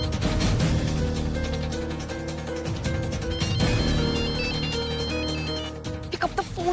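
A telephone rings with a repeating electronic tone, steady and moderately loud over a busy background in a Hindi TV drama scene, ending with a few sharp clicks.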